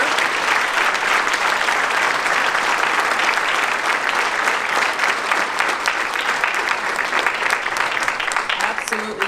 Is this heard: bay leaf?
no